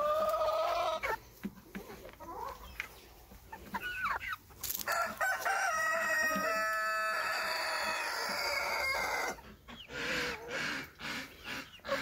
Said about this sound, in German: jetzt bei den Hühnern und versorgen unsere Hühner